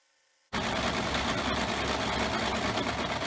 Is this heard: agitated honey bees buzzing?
no